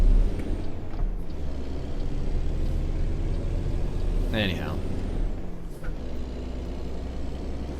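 An engine brake on a Kenworth W900 in American Truck Simulator rumbles low and steady through the whole stretch as the truck slows, with a brief hiss midway and someone talking over it.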